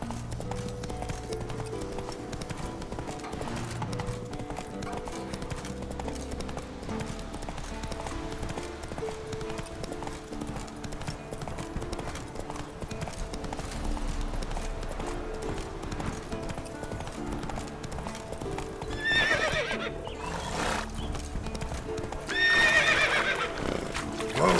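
A horse in The Witcher 3 trots with steady clip-clop hoofbeats amid game music, and two loud neighs ring out near the end.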